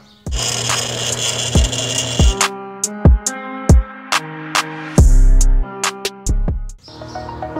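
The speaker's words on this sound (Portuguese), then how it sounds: "agora que eu já furei, né, a parte da frente aqui" A power drill bores a hole through a handmade copper terminal in a short harsh burst, followed by sharp metallic clinks and taps from handling the metal piece, close and fairly loud.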